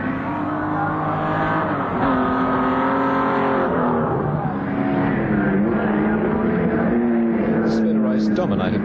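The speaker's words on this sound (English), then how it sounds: "Now this is the third place car, Bob Morris in the Tirana." A Holden Torana touring car races at Warwick Farm in 1973, its engine droning loud and steady with rising and falling revs, a commentator talking over it throughout.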